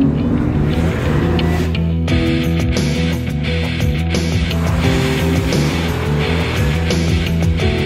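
A Porsche 911 Carrera (997 Gen II) engine roars continuously with tires squealing and scrubbing as it skids on a hydraulic skid plate, loud and close throughout.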